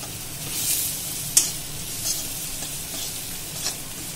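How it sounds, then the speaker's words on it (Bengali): A mixture is stirred and fried in a pan over heat that is being lowered, giving a steady soft sizzle with light scraping strokes and one sharp clink of the utensil against the pan. "এটাকে ভালো করে আবার মিক্স করতে হবে, ভাজতে হবে।"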